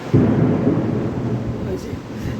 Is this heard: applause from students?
no